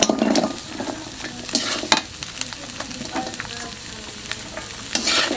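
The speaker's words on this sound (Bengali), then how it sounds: "তেলের সাথে ভেজে নেব" Chopped olives fry in oil in a wok with garlic and chili, a steady close sizzle broken by occasional scrapes and clatters of stirring, no voices.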